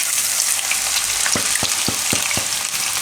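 Ginger, chillies and garlic dropped into hot ghee and butter sizzle in a steady, close frying hiss, with a run of five sharp stirring taps or scrapes of a spoon against the pan near the end.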